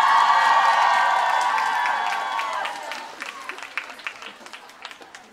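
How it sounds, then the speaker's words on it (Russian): Loud applause and cheering from an audience at a K-pop cover dance battle final awards ceremony, a dense burst that thins over several seconds into scattered claps. "Громкие аплодисменты"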